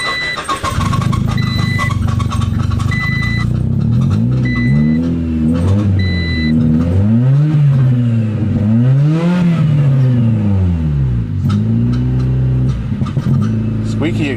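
A 1990 Honda Civic with a squeaky exhaust and stale fuel starts and revs repeatedly, its loud engine pitch rising and falling in uneven surges with a faint high squeal, under occasional talk.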